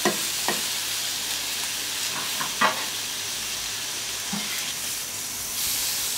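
Oyster and king oyster mushrooms sizzle on a hot plancha, a steady close hiss of frying with occasional scraping stirs and light clanks, no talking.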